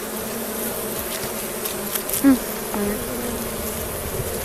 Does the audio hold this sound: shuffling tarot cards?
no